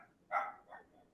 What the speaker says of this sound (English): I've got a little Benny barking in the background